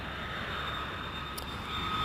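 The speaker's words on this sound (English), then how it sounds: "that was an airplane, if anybody didn't guess the sound" An airplane engine roars in a steady, broad drone as if passing overhead, played back as a sound effect, continuous and moderately loud for about two seconds.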